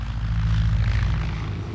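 Propeller aircraft flying over in 1930s archival footage of Hitler's election campaign flight, a steady, loud engine drone with no voices.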